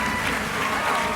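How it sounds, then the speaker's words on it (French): Brief burst of audience clapping at a live show venue, dense and fairly loud, with crowd murmur underneath. "merci Pauline, merci Adeline, on peut les applaudir."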